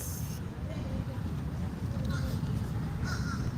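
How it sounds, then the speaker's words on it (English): Bird calls outdoors at a Juneteenth celebration, a few short high chirps and caws heard faintly over a dense low rumble of wind or crowd noise. "you can hear the chirping of the birds"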